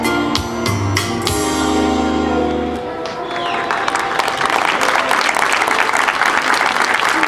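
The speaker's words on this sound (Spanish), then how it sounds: "Fuerte el aplauso" Applause swells from a crowd at the inauguration of a remodelled market. It follows a stretch of music and grows into loud, dense clapping that fills the rest of the moment.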